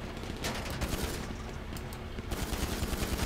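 Pistol gunfire in GTA 5 Online during a bunker gunrunning mission, a rapid stream of shots layered over dense game noise and a low rumble, running steadily without talk.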